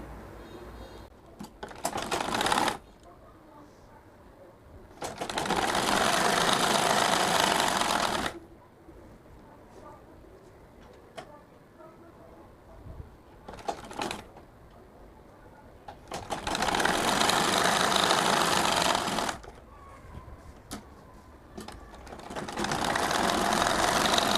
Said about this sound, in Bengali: এখন সেলাই করে দিচ্ছি